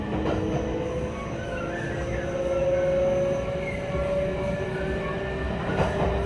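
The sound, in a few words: Kintetsu Ise-Shima Liner train running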